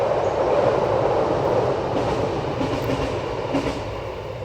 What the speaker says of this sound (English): Yeah, there is a train coming.